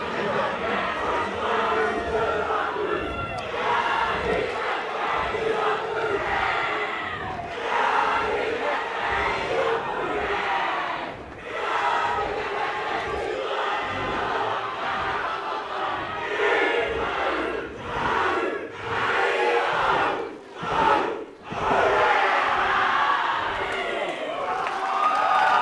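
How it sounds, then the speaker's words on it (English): Crowd at a New Zealand boxing title fight performing a massive haka, rhythmic chanted shouts from many voices with sharp stamps and breaks, loud and sustained, strongest toward the end. "Massive haka from the crowd."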